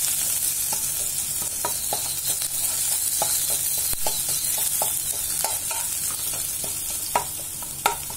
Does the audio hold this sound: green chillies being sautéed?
yes